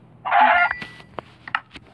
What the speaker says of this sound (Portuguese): Deixa eu pegar essa galinha